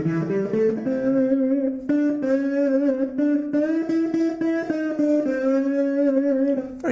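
Electric guitar through a single pickup with a mellow, thick, throaty tone, a close melodic line of sustained and bending notes over plucked chords, played alone without talk.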